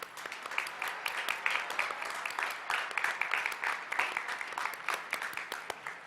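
Spectators at a high school graduation ceremony in Amarillo applaud the honor medal recipients with sustained, even clapping from a large audience, heard at a distance and fairly soft throughout.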